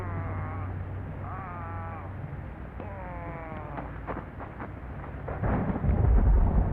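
Thunder in the horror game Devour rolls in as a deep, growing rumble near the end, following a stretch of wailing, cat-like cries from the game.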